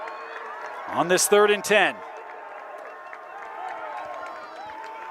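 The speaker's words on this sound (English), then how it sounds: "Fremont students trying to make some noise, cheer on their defense" Fremont students in the stands at a 5A second-round high school football game against Alta make noise to cheer on their defense, a low, distant crowd roar running under a loud announcer's voice.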